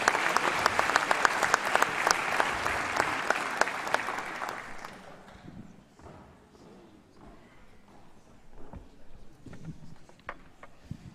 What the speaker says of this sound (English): big round of applause for 4-time state champs up here